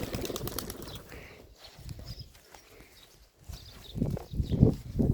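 Gulatiya pigeons are released and take off with bursts of flapping wings: a softer flutter early on, then louder, closer wingbeats toward the end, with no talking.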